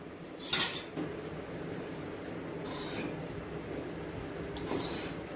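Puffed rice bhel seasoned with Maggi masala and hot oil is tossed in a bowl, giving a few quiet scraping, rustling strokes and a soft clink, with faint background hiss.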